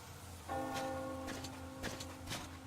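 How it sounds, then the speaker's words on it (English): A bell tolling in the Metro Exodus video game, a few distant, resonant strikes ringing out over a quiet outdoor ambience with soft rustling. "Do you hear that bell?"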